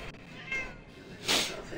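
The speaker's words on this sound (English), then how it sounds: "Hold on, I gotta feed the cat." A house cat gives a couple of short meows, the clearest one near the end, close by in a quiet room.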